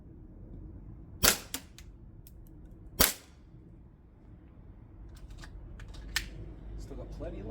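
Limcat Customs Battlecat Hi-Capa airsoft pistol firing, with two sharp close shots in quick succession, a later fainter shot and a few light clicks over a low steady background.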